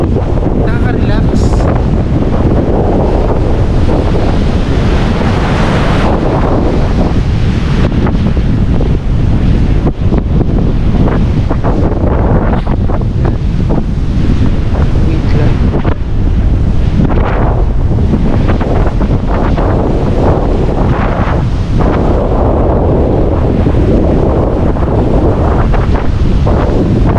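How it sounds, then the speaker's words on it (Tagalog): Sea waves washing onto a white-sand beach at Casiguran, Aurora, with strong wind buffeting the microphone, a loud, continuous roar of surf and gusts throughout. "Saka pala yung ganyang simoy ng dagat, yung ganyang tunog, nakaka-relax."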